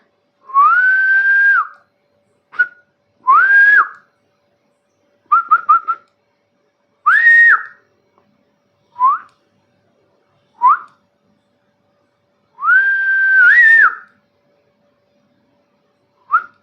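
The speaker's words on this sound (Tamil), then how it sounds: "விசில் அடிப்போம்." A person whistles loudly in a series of sharp, separate bursts, some long rising notes and some short chirps, with silent pauses between them and no talking.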